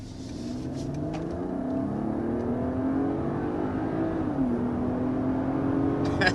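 Mercedes GLE 450 accelerating hard to 60 mph, the engine note rising steadily through the gears with a brief dip at a shift, heard from inside the cabin with a constant road roar.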